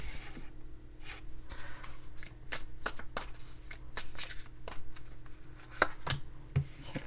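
An animal-themed tarot deck is shuffled by hand, giving quiet, close riffling and soft card slaps in irregular bursts with short pauses between them.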